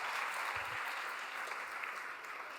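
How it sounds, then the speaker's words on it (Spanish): A church congregation applauds in a dense, steady clapping wash that carries through the whole moment at even loudness, tapering only slightly at the end. "Dele un aplauso al Señor."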